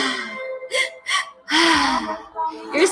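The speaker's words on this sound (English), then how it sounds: "Keep breathing." Deep, forceful breaths and gasps come in uneven bursts during a guided breathwork session, loud and close, with voiced sighs between the inhales.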